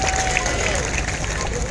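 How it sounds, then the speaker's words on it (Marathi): Crowd applause at an outdoor wrestling match, a dense steady clatter of clapping under an announcer's amplified voice. "त्या गरीबासाठी टाळ्या करावं सर्वांनी."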